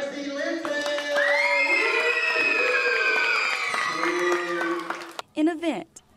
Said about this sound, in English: Round of applause for Lexi Linton!